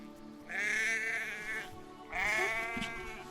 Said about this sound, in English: Inside, dozens of sheep press tight against each other.